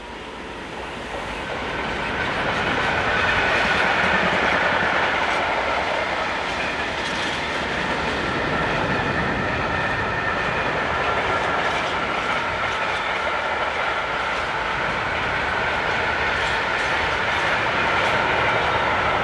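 A German freight train hauled by locomotive 187121 rumbles steadily past on rails between Würzburg and Gemünden, a loud, continuous roar of wheels and cars with faint rhythmic clatter and no voices.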